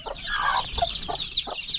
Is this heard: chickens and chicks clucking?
yes